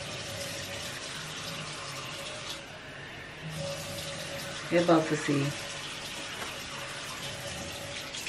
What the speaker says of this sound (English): Put a little bit of water in it.